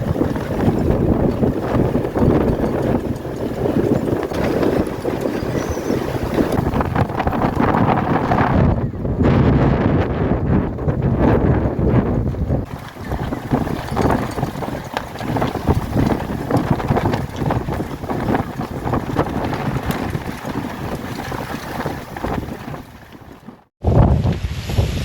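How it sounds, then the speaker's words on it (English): Strong, sustained wind roars across a lake whipped into whitecaps during a dinghy regatta, buffeting the microphone in a steady, loud rush with gusty surges and a brief drop near the end. "the wind just picked up and stayed up"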